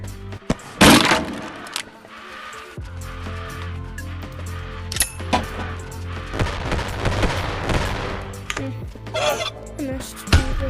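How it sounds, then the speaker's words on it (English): A grenade launcher fires in the video game Animal Company in a forest setting, giving sharp loud blasts and crackling impacts scattered over several seconds amid game sounds and some talk. "Why did I get a grenade launcher?"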